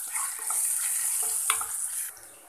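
Okra (vendakka) sautés in a pan with curry leaves: a steady, close, hissing sizzle with light scraping and stirring, fading slightly at the end.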